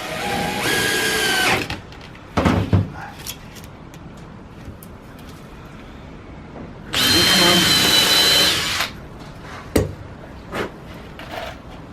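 A power drill whirs in two short bursts several seconds apart, driving a 45mm screw into a Langstroth beehive, with clicks, knocks and handling sounds between them, close by and without speech.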